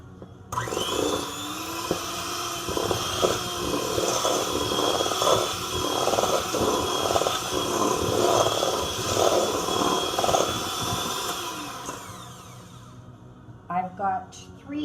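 An electric mixer beats margarine and sugar in a large bowl for chocolate zucchini bread. It runs as a steady, close motor whir with wavering pitch for about eleven seconds, then stops, and a voice speaks briefly afterward.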